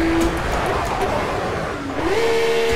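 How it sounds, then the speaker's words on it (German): BMW 1 Series engine revving in the Project CARS racing game, a steady loud drone with a tonal whine that dips and then climbs higher near the end, continuous throughout. "Als ich den Motor aufheulen lassen habe, da fangen sie an zu wackeln."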